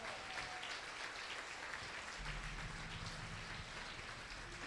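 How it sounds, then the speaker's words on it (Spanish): A church congregation applauding, a dense, steady patter of many hands clapping together that sounds almost like rain, sustained throughout at a moderate distance with no voices over it. "vamos a dar un fuerte aplauso para que se pueda escuchar"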